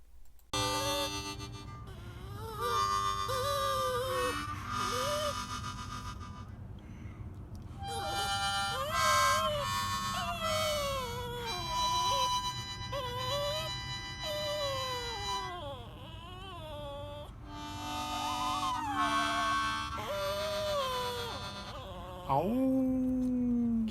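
A pet dog in a motel room howls in long, wavering, rising and falling cries, repeated over and over with brief breaks, close and fairly loud, ending on a sharp high wail.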